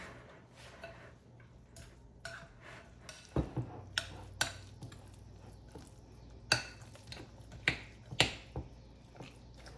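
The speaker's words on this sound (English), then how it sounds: "And then we're going to give this a stir." A spoon stirs chicken salad dressed with mayonnaise and lemon juice in a bowl, giving sharp scattered clinks and scrapes against the dish, close and fairly quiet, with no talking.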